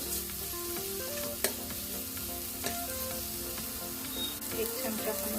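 Masala paste of chili, coriander and garlic roasting in a pan for Maharashtrian kadhi, with steady close sizzling and frying broken by scraping stirs and an occasional clink of the spoon.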